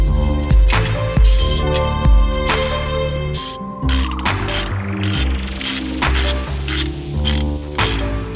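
A hand ratchet clicks rapidly, tightening a brake caliper bolt on a 2007-2013 Chevy/GMC truck during pad and rotor replacement. Loud close-up bursts of metallic pawl clicks come in quick runs with short pauses, with no talk.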